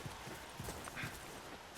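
Horse hooves clip-clopping in The Last of Us video game, a faint, low series of irregular hoof knocks over a steady hiss of background noise.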